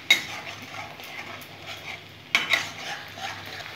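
Ten to twelve garlic cloves and two large pieces of ginger sauté in a pan, with a soft ongoing sizzle and two sharp utensil scrapes against the metal, close and fairly quiet.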